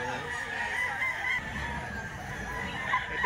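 Roosters crow repeatedly amid a steady murmur of crowded activity at a gamefowl market, several birds overlapping near and farther off.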